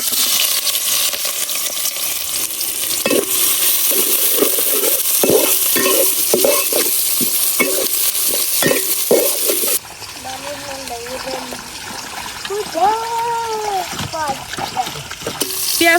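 Chopped onions sizzle as they fry in a pan, with a spoon or spatula scraping and stirring at a steady rhythm. Partway through, the stirring stops, and a voice speaks over a quieter background hiss.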